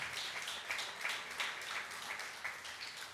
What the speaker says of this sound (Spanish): Dele un fuerte aplauso al que vive y reina para siempre